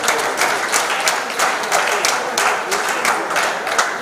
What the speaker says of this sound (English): The governor deserves another round of applause.